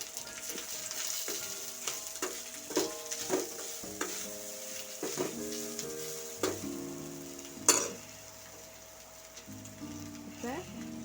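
Grated coconut sautéed and stirred in a pan for village-style chutney: a soft sizzle under repeated scraping and clinking strokes of a spoon against the pan, with a voice speaking through it.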